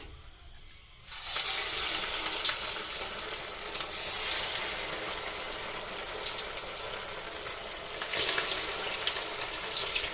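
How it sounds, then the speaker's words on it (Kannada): Vada dough balls of puffed rice and curd dropped one at a time into hot oil set off a steady, close, hissing sizzle that swells as more go in. "ಇದನ್ನು ಒಂದೊಂದೇ ಎಣ್ಣೆಲಿ ಕರಿ ಹಾಕ್ಬಿಡ್ತೀನಿ"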